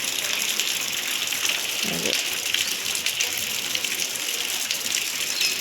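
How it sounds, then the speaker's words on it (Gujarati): Steady sun-shower rain hisses and patters continuously near a temple, a broad even wash of falling drops with a brief low thump partway through and no talk. "તડકાનો વરસાદ છે એવું લાગે મને"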